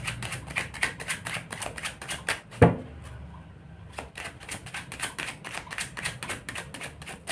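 Tarot cards are shuffled and drawn with a rapid, even run of crisp taps and riffles, close and moderately loud, broken by one sharp snap and a short pause before the rhythm resumes.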